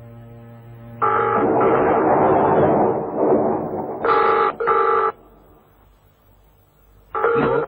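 A telephone rings in short, loud repeated bursts during a Hindi detective drama scene, with a phone line and extension nearby. The bursts are separated by pauses and stand out over a low room hum.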